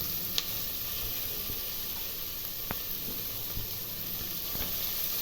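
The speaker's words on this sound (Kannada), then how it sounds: "ಇವಾಗ ಪುದೀನ ಸೊಪ್ಪು ಹಾಕ್ತಾಯಿದ್ದೀನಿ" Onions, green chilies and mint leaves frying in oil for chicken biryani, giving a steady, even sizzle and hiss throughout with a few faint clicks of stirring, no one talking.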